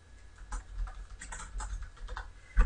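Typing on a computer keyboard while entering a column heading in an Excel spreadsheet: an irregular patter of soft, close key taps over a low background hum, with no talking.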